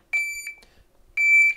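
A shot timer's start beep with a paper paster taped over its speaker sounds twice, each a sustained electronic tone of roughly half a second separated by a pause, fairly close and without speech.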